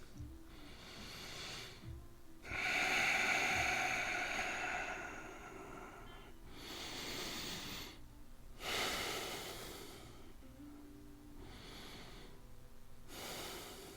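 Slow, deep diaphragmatic breathing during a hip mobility stretch, with long airy inhales and exhales repeating in a steady rhythm, close and fairly quiet with brief pauses between breaths and no talking.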